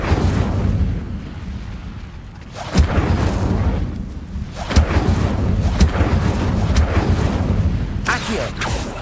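In Hogwarts Legacy, an Incendio fire spell is cast again and again, each one a loud close whoosh and burst of flame over a rumbling roar of battle. Spoken voices are heard in between the blasts.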